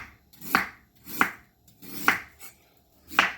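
Sharp knife chopping through cabbage on a board in four loud, crisp strokes spaced under a second apart, each a close, sharp crunchy thud, with a fainter tap between the third and fourth.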